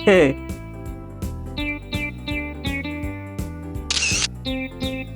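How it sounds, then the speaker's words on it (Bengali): A mobile phone camera shutter snaps once in a brief, bright click partway through a cartoon scene, heard over steady, plucky background music. "আমি ছবি তুলি"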